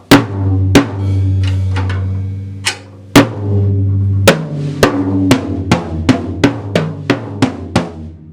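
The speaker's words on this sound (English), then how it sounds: "Get that dipping sound in the drum." A single-headed Pearl fiberglass concert tom with a detuned lug is struck about a dozen times. Each hit drops in pitch as it rings. The strikes are spaced out at first, then come quicker and more evenly.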